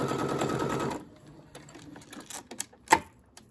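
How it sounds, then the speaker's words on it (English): A domestic sewing machine stitches the binding on a small quilted mug rug, running in a steady close whirr for about a second, then stopping, followed by scattered clicks and light handling noises of fabric and thread. "And then you're going to start stitching right at the very top of that binding."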